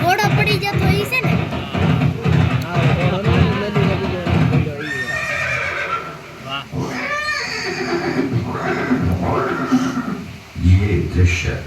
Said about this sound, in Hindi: આ ઓલો ઘોડો પડી જતો ઈ છે ને